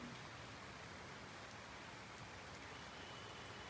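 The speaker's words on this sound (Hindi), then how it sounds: "पूरे एक हफ्ते बाद यहाँ पे बारिश हो रही है आज हल्द्वानी में" Steady rain pours down over Haldwani as heard from a rooftop: a dense, even hiss of drops hitting surfaces, close and continuous throughout, with no talk.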